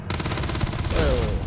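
Rapid automatic weapon fire in a space-themed video game rattles in a fast, even burst of closely spaced shots, loud and continuous, with a brief rising electronic tone near the end.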